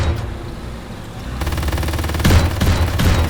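Suppressive gunfire rattles in the FPS video game SILICA, with a vehicle rumbling underneath. Quieter at first, it becomes loud, dense automatic bursts with rapid repeating shots.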